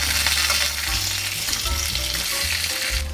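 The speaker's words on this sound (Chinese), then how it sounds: "這樣子總共也煎了20幾分鐘了" Salted pork belly pan-fries in its own rendered fat with a loud, close, continuous sizzle, broken by a few low thumps as the pieces are stirred and turned.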